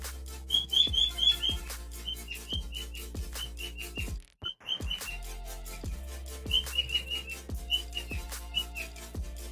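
Birds chirp in the strategy game Advance Wars By Web, with repeated bright whistled tweets in short bursts over a soft, rhythmic musical backing. The sound breaks off briefly midway, then the chirping resumes.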